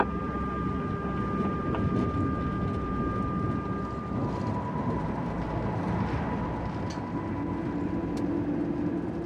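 A TGV high-speed train on the Paris–Lausanne run rolls over exit switches at 30 km/h, giving a steady low rumble with a faint thin tone, heard from the cab.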